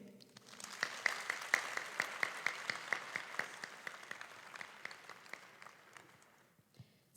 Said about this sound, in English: please give a round of applause to all the teachers, principals, deans, support staff, janitors, and cafeteria staff